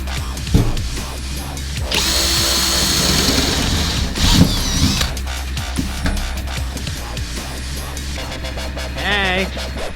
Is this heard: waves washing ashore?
no